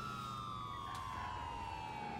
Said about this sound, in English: There was just an ambulance and it just slammed right into me.